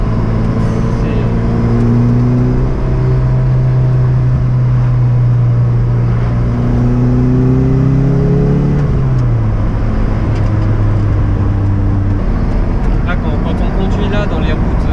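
An Abarth 124 sports car on a winding road pulls hard, its engine note climbing steadily before dropping at a gear change and rising again, loud and close inside the cabin while a person talks over it.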